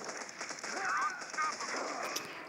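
Automatic gunfire from Modern Combat 4 rattles in rapid bursts throughout, with a player's voice talking over the shooting.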